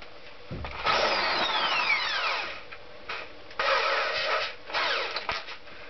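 A drill fitted with a normal sanding disc cleans corrosion and dirt off a Honda GL500 engine cover, whining and rising in pitch as it spins up, in several close, loud bursts separated by short pauses.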